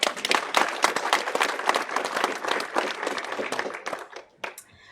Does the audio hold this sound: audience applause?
yes